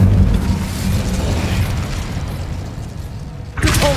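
An Incendio fire spell cast in Hogwarts Legacy gives a loud, rumbling, booming roar of flame that churns steadily. It eases slightly, then a sharper burst flares up near the end.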